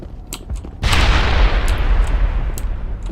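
A grenade blast in the video game Mass Effect lands as a sudden loud boom that rolls into a long rumbling roar, with scattered sharp gunfire cracks before and around it.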